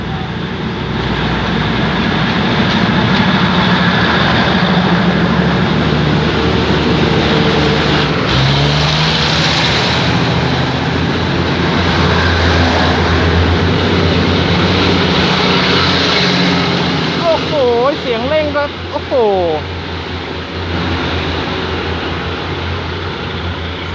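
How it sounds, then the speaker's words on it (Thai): A loud diesel railcar engine, a Thai diesel railcar train at Sam Sen station in Bangkok, revs and builds in a rumbling roar, rising steadily, with a brief squealing rail screech near the end. "สะใจจริงๆนะครับเสียงเร่งเครื่องของรถดีเซลางนะฮะ"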